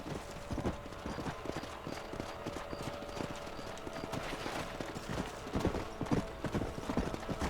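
Horses trot in the Red Dead Redemption video game, a steady clip-clop of hooves on ground, fairly faint and continuous, with no voices over it.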